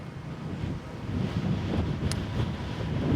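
Steady wind buffeting the microphone while riding a Pedego Avenue e-bike along city streets on a breezy day, a continuous low rumble that swells slightly toward the end, with no talking.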